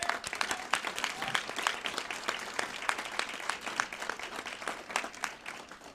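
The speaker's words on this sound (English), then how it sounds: "please join me in a round of applause for all of these heroes" An audience gives sustained applause for Medal of Honor recipients at a VA event, steady dense clapping throughout at moderate distance with no speech over it.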